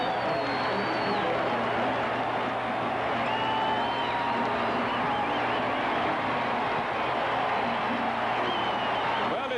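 Roaring football stadium crowd at a San Diego Chargers at Denver Broncos game, a dense, sustained wall of cheering and noise that stays loud and steady throughout, reacting to an interception late in the game.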